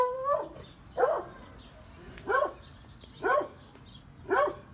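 A puppy gives five short, high yips and barks spaced about a second apart, close and clear over a quiet background with no talking.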